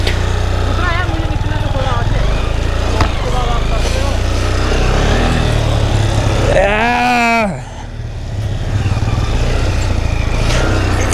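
A motorcycle engine revs steadily and loudly at close range while stuck in snow, with a voice speaking over it and a brief rising whine near the middle.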